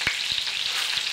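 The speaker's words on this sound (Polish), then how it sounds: "Wrzucam cebulę i podsmażę do momentu zeszklenia." Onion that had been used to marinate fish sizzles steadily in a hot pan, a dense crackling frying hiss with a few soft taps, heard close and without talk.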